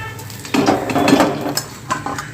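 Capsicum bhaji lifted out of frying oil, a burst of sizzling with metal utensil clinks against the pan, then a few lighter taps as the fritters are set aside.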